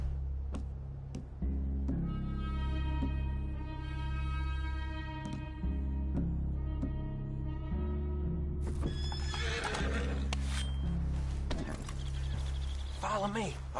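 Horses whinny loudly and repeatedly, with hooves clip-clopping beneath and a voice speaking over part of it.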